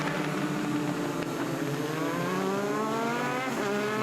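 Race cars scream around a pavement oval at Charlotte, engine notes rising and sliding in pitch as they pass, loud and continuous with a brief tire-scrub edge and no voices.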